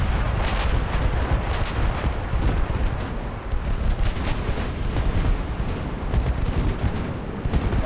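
Battleship guns firing in the naval game Ultimate Admiral Dreadnoughts, a dense, continuous rumble of heavy booms and blasts rolling on throughout, loud and close with no pauses.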